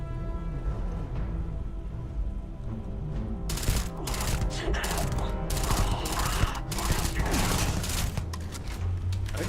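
Rapid automatic gunfire from a corrosive-damage gun in Starfield. Dense, loud bursts of shots in the second half rise over an ongoing game soundtrack, and a voice is heard briefly.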